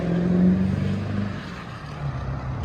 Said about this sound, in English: Truck noise.